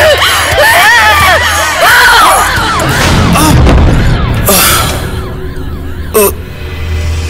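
In a Hindi horror audio drama, a person screams and crashes while falling down stairs outside a house. Loud, shrill, wavering screams give way to heavy thuds, with a sharp impact near the end.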